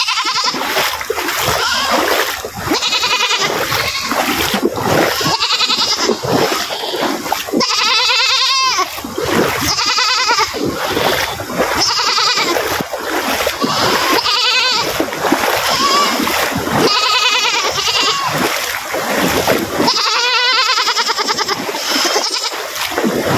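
Goats bleating loudly and repeatedly while being carried across floodwater in Duliajan, Assam, with splashing water and people talking throughout.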